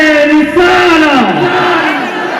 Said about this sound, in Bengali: একবার মারহাবা আওয়াজ দিয়ে বলুন মারহাবা